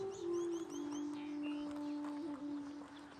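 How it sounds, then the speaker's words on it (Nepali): Outdoors in bare late-winter countryside, a bird calls with a run of quick rising chirps over a steady lower tonal hum, moderately distant and alone without talk. "कस्तो दामी चरा कराइरहेको"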